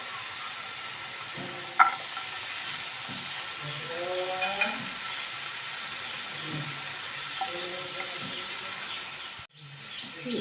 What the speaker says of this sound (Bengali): এগুলো সব একসাথে ফ্রাই করে নেব